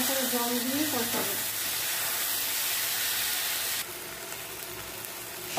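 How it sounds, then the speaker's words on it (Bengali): Soyabean curry with cumin powder and a splash of water sautéing in a pan, a steady close hiss and sizzle that drops slightly in level partway through, with a brief voice-like tone near the start. "জিরে গুঁড়ো, গরমটা কষিয়ে নেবো, অল্প করে জল দিয়ে কষাবো।"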